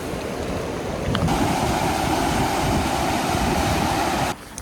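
A river in the Southern Appalachians flows with a continuous close rushing and gurgling wash that grows slightly fuller after the first second, then cuts off abruptly near the end; no one speaks.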